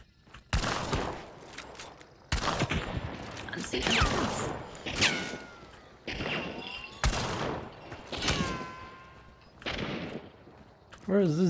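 Gunfire in a video game: sharp loud shots in separate bursts, some close and some with ringing tails, spaced irregularly while players talk between them.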